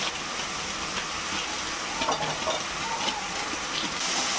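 A pan of food sautéing with turmeric and chili powder gives a continuous close hiss and sizzle, with faint scraping from stirring now and then and no talk.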